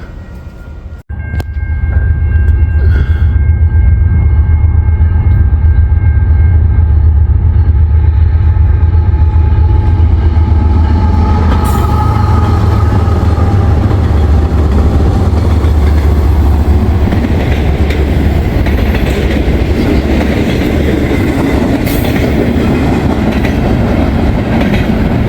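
An eastbound Union Pacific manifest freight train rolls past on the Geneva subdivision in Rochelle, Illinois, a loud, sustained rumble with steady clickety-clack of railcars continuing for the whole stretch, with faint horn tones early on.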